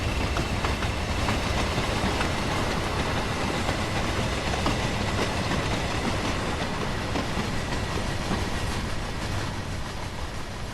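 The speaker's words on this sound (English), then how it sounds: "And look at how long it took to stop." A train runs along railway tracks in a dense, loud, unbroken roar of wheels and cars with a light rhythmic clatter, easing only slightly near the end as it slows.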